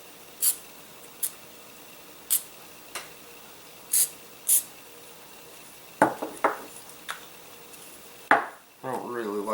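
Several short, sharp hissing bursts from an aerosol spray can while building a model pennyplane wing and tail, spaced irregularly, followed by clinks and rustling handling sounds.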